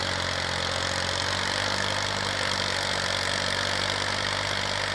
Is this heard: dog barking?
no